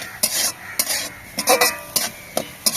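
A spatula stirs boiled beetroot, carrot, peas and other vegetables in a pan, with about seven quick scraping strokes over a light sizzle, close and fairly loud.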